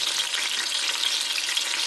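Ginger garlic paste frying in a pressure cooker for beef nihari, a steady bright sizzle with stirring, close and alone.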